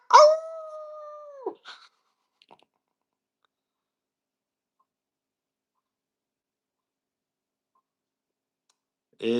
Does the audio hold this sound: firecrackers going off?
no